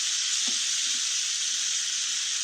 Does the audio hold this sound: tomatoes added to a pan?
yes